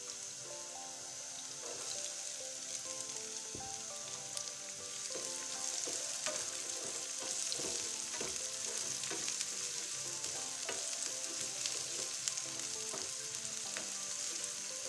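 Onions with ginger-garlic paste frying in a pan: a soft, continuous sizzle with scattered pops and light stirring scrapes, steady and fairly quiet throughout, no talking.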